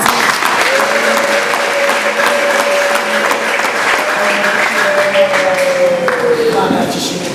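Loud, sustained applause from a church congregation at an ADEPR choir gathering, dense clapping filling the room with a steady tone or voice held underneath.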